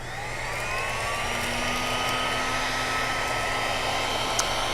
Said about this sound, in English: I'll just throw a little bit of heat from this heat gun onto just a piece of film